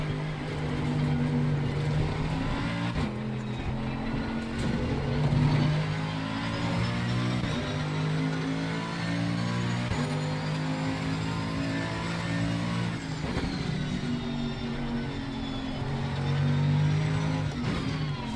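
A Mercedes-AMG GT3 race car lapping the Nurburgring in Assetto Corsa Competizione, its engine droning steadily and rising and falling in pitch with gear changes, loud and continuous throughout.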